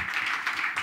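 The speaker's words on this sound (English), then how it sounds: "Once more, round of applause for both of them" Audience applause for Sonia and Aditya Sharma at a live event: steady, moderately loud clapping from a crowd throughout the short stretch.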